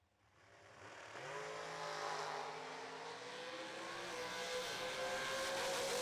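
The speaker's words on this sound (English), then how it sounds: "Got ourselves a clean drag race, and it lights up for Jason Preston." Drag race cars launching side by side down the strip at a New Year Nationals event, a loud engine roar swelling from quiet to a sustained high-pitched howl that keeps building as the cars pull away.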